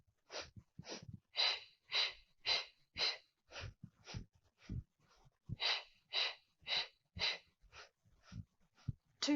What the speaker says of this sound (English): We inhale and exhale.